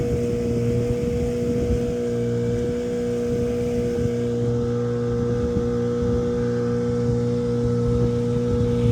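A homemade jon boat motors slowly across Lake Jesup, its outboard engine droning steadily and loudly throughout with a constant low hum and wind buffeting the microphone.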